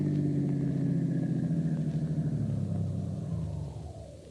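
A car turns into a workyard and parks in a garage, its engine a steady low rumble close by that gradually eases and fades toward the end, with no talk.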